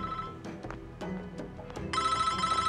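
A telephone rings in a Russian-dubbed TV drama, its electronic tone starting partway through and sounding steadily and loudly over a cluttered background of music and room noise.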